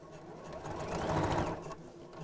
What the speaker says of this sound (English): make sure the ribbon's central and I'm not sewing through both sides of the bag